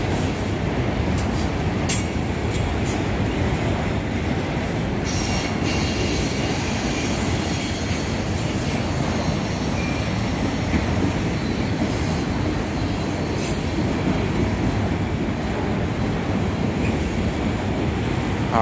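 A slow Union Pacific autorack freight train, UP 7383, rolls past at Power Line Trail with a steady, loud, continuous rumble of rail cars and occasional high wheel squeals throughout.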